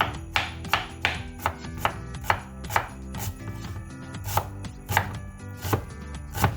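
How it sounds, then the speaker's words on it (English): A knife chops through onion on a board in a steady run of crisp, evenly spaced thuds, about two strikes per second, close and clear with no voices over it. "You cut a lot of onion like that."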